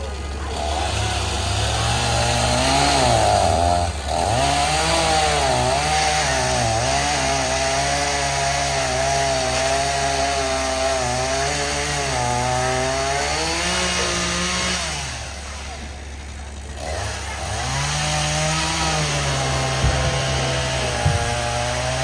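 Chainsaw trimming a massive storm-downed tree on a sidewalk, engine revving up and down in repeated cycles while cutting, loud and fairly close with a steady idle hum beneath, brief dips between cuts.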